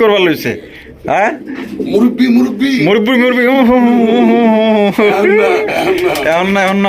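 Large pigeons coo at a farm where birds are sold, their throaty calls close and fairly loud, mixed with nearby people talking.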